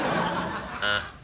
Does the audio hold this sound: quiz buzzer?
yes